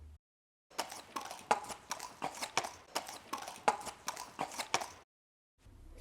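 Horse hooves clip-clopping in a sound effect, a run of sharp, evenly spaced knocks close up that starts after a moment of silence and stops abruptly near the end.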